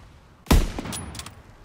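A single loud, close gunshot cracks out in a Call of Duty: WWII Battle of the Bulge battle, followed by a few fainter, scattered shots trailing off behind it.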